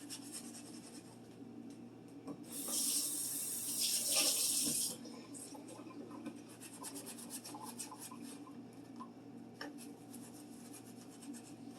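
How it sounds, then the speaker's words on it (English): Wet sponge rubbed on a sticker stuck to a cabinet item, a brief run of water splashing and scrubbing for a couple of seconds, then faint intermittent rubbing and small clicks, quiet and close, no talking. "rub a wet sponge on them and they should peel right off"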